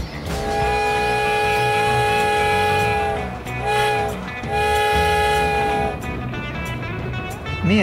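Train passing in the GTA video game, a loud sustained horn chord with steady rumble, briefly dipping then resuming before fading into rolling track noise near the end.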